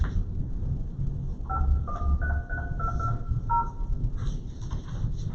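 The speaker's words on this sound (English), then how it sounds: "Hang on, Mark, we got the phone." Telephone keypad tones dialing into a conference call from a commission meeting, a quick run of paired beeps over a low rumble of background noise with no talking.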